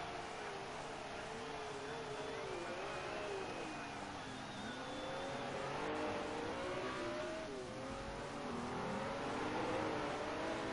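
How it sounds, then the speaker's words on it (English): A BMW M1 Procar drives the bumpy Nürburgring Nordschleife in a racing game, its engine droning and wavering steadily as it rides over the bumps. A commentator's voice sits low underneath. "And just hear Moiraxa going over the bumps."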